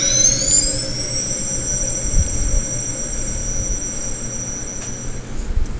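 A Ghostbusters proton pack replica built from Exoray's kit switches on, with a quick rising electronic whine settling into a steady high-pitched hum over a low rumble, heard alone without talk.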